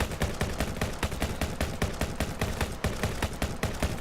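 Gunfire from a firing line of players in a zombie video game, a dense, continuous rattle of rapid, overlapping shots that stays loud and even throughout.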